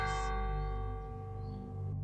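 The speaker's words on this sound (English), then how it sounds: "A bell rang." A single bell rings once, a sustained resonant tone with long overtones slowly decaying, heard alone at moderate loudness.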